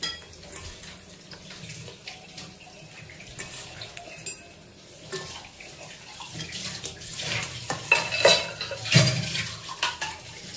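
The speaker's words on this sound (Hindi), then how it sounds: "तो अभी हम लोग इसमें चिकन को डाल देंगे" Desi village chicken is tipped into fried masala in a pot and stirred, bringing wet clattering and scraping against metal that grows louder and busier toward the end, no talk.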